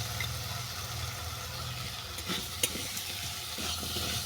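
Spinach ghonto with turmeric and salt is stir-fried in a pan, giving a low, continuous sizzle with soft scraping stirs and an occasional light clink.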